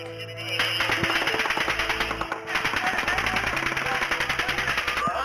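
Rapid, sustained bursts of automatic gunfire crack continuously, loud and dense, with a brief pause partway through, during a police shootout in Nevada with officers pinned down.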